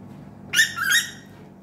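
A bird in a garden lets out two quick, loud whistled calls close together, with a quiet background before and after.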